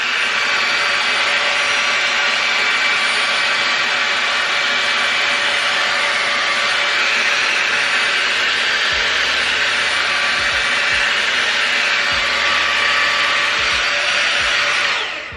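A cheap £12 Dyson Airwrap dupe hair styler blows air in a loud, steady whoosh with a high whine, running continuously close by with no talking.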